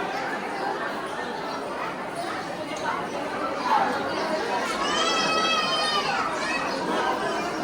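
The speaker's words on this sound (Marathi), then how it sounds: "गर्दी खूप आहे." Steady hubbub from a big crowd of devotees gathered at a temple, many overlapping voices and children's shouts close by, with no single voice standing out.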